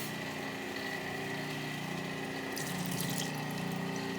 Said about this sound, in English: we can drain our beans